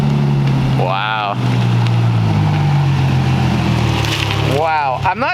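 An Infiniti with a straight-pipe exhaust revs hard up close, its loud, raspy drone rising and falling through the clip, with sharp rev blips near the start and again near the end.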